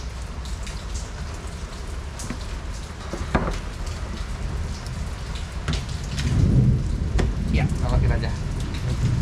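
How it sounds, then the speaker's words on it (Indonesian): Heavy rain pours steadily in a dense hiss on a roof while a Hyundai Ioniq 5 charges, with a brief rumble or gust swelling partway through as the downpour intensifies. "ini hujan sekarang ha, makin deras"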